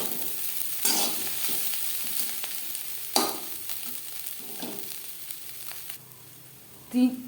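Kakrol (spiny gourd) frying with grated coconut in a pan over medium flame, a soft steady sizzle broken by a few stirring scrapes and clinks, with a louder clatter near the end.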